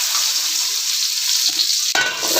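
Chopped small onions hit hot oil in a pan for sardine fish curry, giving a loud, bright sizzle that flares sharply near the end as they go in, with a brief stir.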